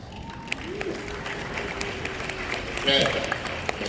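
A crowd claps and cheers in a steady burst of applause at a Comic-Con panel, with voices talking over it throughout.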